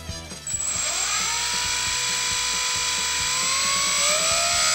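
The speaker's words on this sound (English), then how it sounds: "Let's see what this motor sounds like." Brushless electric motor on an E-Flite UMX Sbach 342 model plane spins up with a rising high-pitched whine, then holds a steady, loud electric hum close by.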